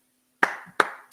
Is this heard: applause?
yes